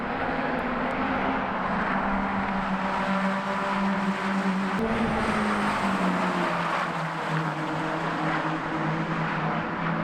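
Caterham race cars roar past nearby at Brands Hatch in a continuous engine drone, pitch sliding down slightly as they pass, steady and loud throughout.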